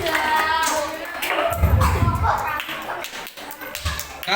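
Elementary school children in a classroom clap their hands and tap their elbows and shoulders in a chant game, producing a busy patter of taps and claps mixed with chanting voices and lively chatter.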